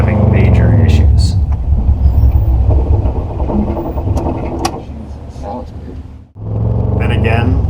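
A rally car's engine holds at high revs at the start line of a forest rally stage in southern Ohio, a loud, steady, rumbling drone that briefly drops out before surging back. The engine has been faltering and stalling.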